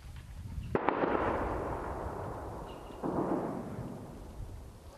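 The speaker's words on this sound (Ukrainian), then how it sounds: "Мертву тишу раз по раз розривають звуки пострілів і вибухів." Gunfire and explosions on the front line near Avdiivka's industrial zone, heard as two booming bursts about two seconds apart, each followed by a long rolling rumble that fades away, with no talk.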